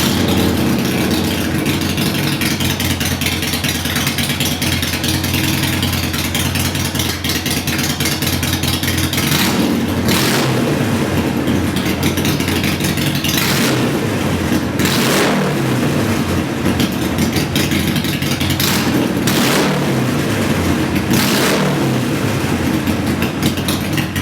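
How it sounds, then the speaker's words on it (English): A Harley Sportster Iron engine idles loud and close through slip-on exhaust, then blips repeatedly in sharp revs with falling decays between them, about five throttle bursts over a lumpy, throbbing idle. "straight wide open exhaust on a Sportster, it sounds good when you get on it"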